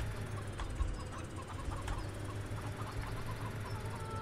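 Hens clucking in a cramped farmyard pen in Farming Simulator 17, a steady layer of soft, repeated clucks and chatter over a constant low background drone, with no speech.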